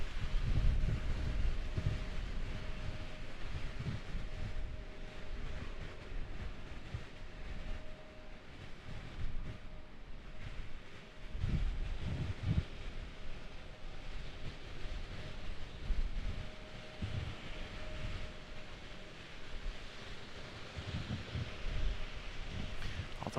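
Storm wind buffets a microphone outdoors at Raleigh-Durham International Airport, a continuous loud roar with gusting thumps and rumbles that rise and fall throughout.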